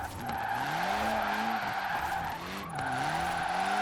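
A drift car in Forza Horizon 4 slides sideways with a continuous loud tire squeal over a revving engine whose pitch rises and falls, with a brief dip before the screech resumes.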